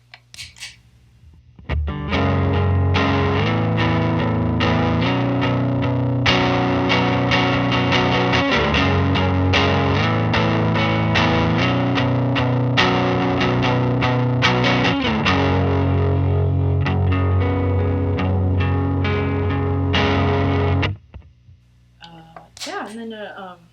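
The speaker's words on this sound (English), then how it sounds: "I have it dialed in for a lowish medium kind of fuzzy overdrive sound right now" Electric guitar with low-output single-coil pickups played through a fuzz overdrive pedal set to low-medium gain, sustained chords and riffs ringing loud and steady for about twenty seconds, then stopping abruptly.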